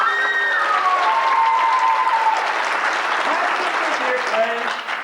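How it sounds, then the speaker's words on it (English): Theatre audience applauding warmly at a music hall show, loud, sustained clapping and crowd noise with a few cheers riding over it for the whole stretch. "A warm round of applause for Nick Cricker and Son."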